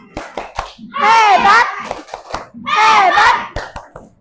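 A class of fourth-grade children claps in a rhythmic classroom clapping game, with short bursts of chanting voices between the claps.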